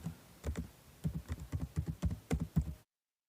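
Close, crisp keystrokes on a computer keyboard during data entry in Tally Prime accounting software, about a dozen and a half clicks in a quick, uneven rhythm that stop abruptly.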